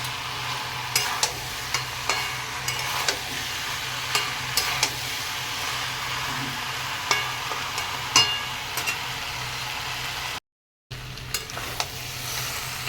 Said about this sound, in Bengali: এবারে মশলার সঙ্গে কষিয়ে নেব